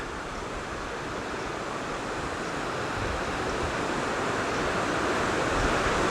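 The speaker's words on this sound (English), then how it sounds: "Here's a mini waterfall along the creek." Small waterfall pouring along a wooded creek gives a steady, broad rushing wash of water. It holds at an even level throughout, with no voices.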